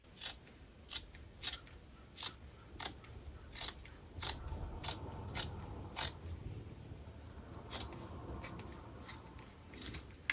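Scissors cut fabric along a sewn seam, giving close, crisp snips in a steady repeating rhythm, with no talking.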